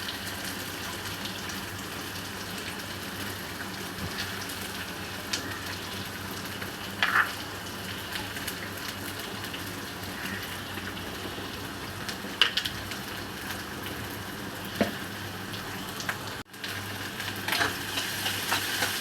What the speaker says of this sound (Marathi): मीडियम गॅसवर कांदा परतून परतत राहायचं.